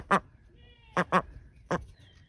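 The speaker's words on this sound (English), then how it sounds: "This is a good looking duck right here." A duck quacks four times in short, loud, nasal bursts, two of them paired close together, near and alone against a quiet outdoor background.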